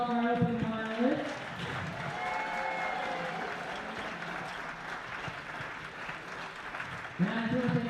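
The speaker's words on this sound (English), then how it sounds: "Let's have an extra round of applause for all of our opening finalists" Audience applause for the finalists at the close of a sport open finals event, heard as a steady, moderately loud wash of clapping with crowd voices mixed in. A short stretch of talk comes before and after it.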